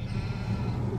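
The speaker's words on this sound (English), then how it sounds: "so our sheep have plenty of food" Sheep in the Farming Simulator 17 video game bleat in one loud, close, sustained call that fills the whole moment with no talk over it.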